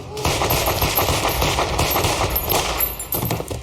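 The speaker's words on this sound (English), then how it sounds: "then Brant just fucking opens fire on everybody" Rapid, loud machine-gun bursts rattle almost without pause through a violent shootout scene in the horror film Black Easter, with brief shouting underneath.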